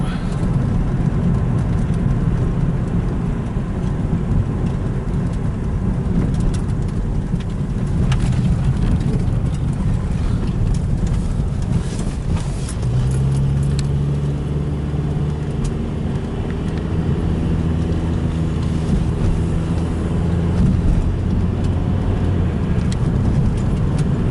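Steady broadband rumble of a car driving on the way home, continuous road and engine noise with a low droning hum emerging in the second half, no talking.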